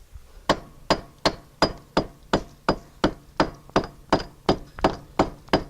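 Steady, evenly spaced mason's hammer strikes knocking out brick from a brick wall, about two per second, each a sharp ringing knock with a brief clatter after, close and loud.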